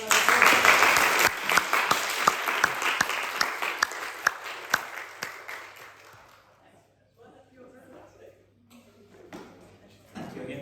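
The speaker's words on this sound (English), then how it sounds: "Let's all give Sarah a really nice applause" Audience applauding a talk on the modern history of a Catholic sect, loud dense clapping with a few sharp individual claps that thins out and fades to near quiet, then a brief burst returns at the end.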